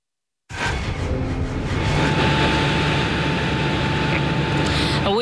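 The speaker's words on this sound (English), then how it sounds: "We've spotted lots of helicopters in the air" Helicopters fly overhead during a coastal search for a man swept out to sea, a steady loud engine drone and rotor rumble that starts abruptly and holds throughout, with a faint steady hum underneath.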